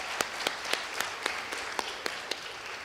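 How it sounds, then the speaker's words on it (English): Audience applause at a feminist finance forum: faint, sparse clapping with about ten distinct claps in a loose, even rhythm, heard from a distance. "I think that deserves a round of applause."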